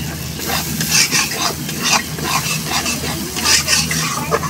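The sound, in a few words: frying mustard paste with chapila fish masala in a pan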